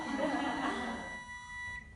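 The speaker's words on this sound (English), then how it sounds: "that's my timer for my sourdough" A kitchen timer set for sourdough bread rings with a steady, high electronic beeping tone while a voice talks over it, the beeping fading out near the end.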